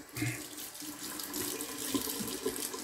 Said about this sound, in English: let me rinse off really quick